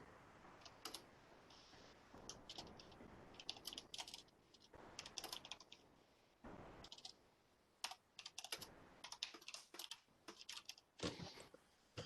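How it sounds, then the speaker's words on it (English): Quiet, rapid typing on a computer keyboard, with irregular bursts of key clicks and brief pauses, recorded close by at low volume. "I'm typing a little message to Adrian with some more information."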